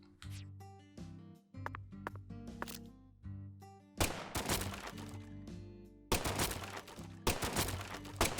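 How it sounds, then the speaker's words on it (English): Gunfire in the Deadly Premonition 2 video game, with several sharp shots destroying wooden boxes, mixed with thuds and breaking wood, over game music that turns into dense, loud bursts in the second half. "Use the gun to destroy the wood boxes."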